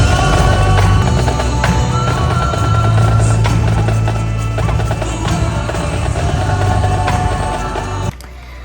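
Loud, dense live performance of a song at a school show, with full band and vocals sustained throughout before dropping off near the end.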